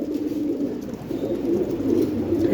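Several pigeons kept for sale coo together in a close, unbroken low warble, with soft rises and falls and no voices.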